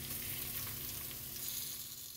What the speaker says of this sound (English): While those are searing off a bit, getting a little bit of crispness on them